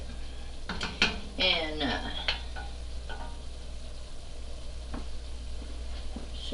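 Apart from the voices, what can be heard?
stirring chili in a pot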